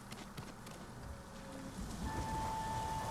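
Stormy weather in the video game Ghost of Tsushima: a rushing rain hiss and a low rumble that build over a few seconds, with faint tones threading through.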